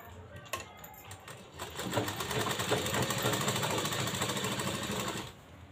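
A sewing machine stitches a fabric katori blouse cup. After a few brief clicks, the motor runs in a steady, close, rapid rattle for about four seconds and then stops.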